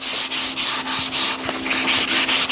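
A wooden chair being refinished is hand sanded with 220-grit sandpaper, giving loud, close, rhythmic rasping strokes in steady back-and-forth pulses, about two per second, with no talk.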